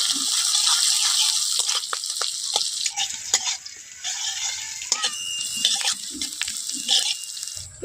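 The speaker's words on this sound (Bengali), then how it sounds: "দিয়ে দেবো একটা পেঁয়াজ কুচি ভালো করে একটু পেঁয়াজটা ভেজে নেবো" Chopped onions and slit green chillies sizzle and crackle in oil in a pan, a bright continuous hiss broken by scattered pops and stirring scrapes, close and fairly loud.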